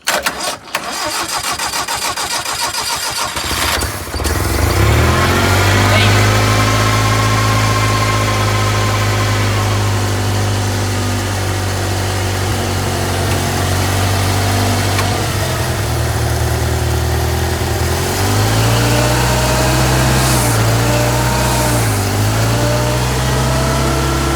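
An old Toyota forklift engine cranks briefly, catches and settles into a loud, steady idle with a few dips in speed near the end, no talking over it.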